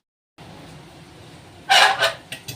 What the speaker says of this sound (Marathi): कुकरला चांगल्या तीन शिट्ट्या होईपर्यंत मी बटाटे शिजवून घेणार आहे